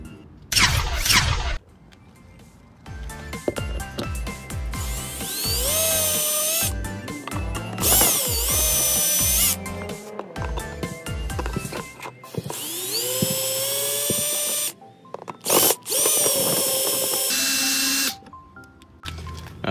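A power drill removing screws from a car tail light whirs in repeated bursts, revving up and winding down with pitch sweeps, separated by short pauses and clicks.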